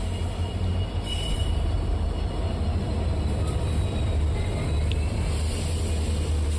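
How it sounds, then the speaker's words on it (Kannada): Train 18048, the Goa–Shalimar express hauled by twin WDP4D diesel locomotives, arrives at a station with a steady low engine rumble and wheel noise, continuous and fairly close. "ನಮ್ಮ ಟ್ರೈನ್ ಬಂತು ನೋಡಿ 18048 WRDP 4D ಜೊತೆ ಟ್ವಿನ್ ಲೋಕಸ್ಸು"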